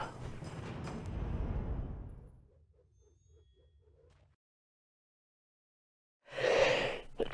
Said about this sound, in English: And I'm gonna sneeze, so I'll apologise for that.